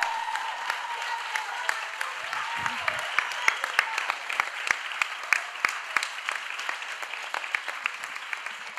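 An audience at a feminist talk applauds steadily, with many individual claps standing out sharply and a brief low murmur of voices early on.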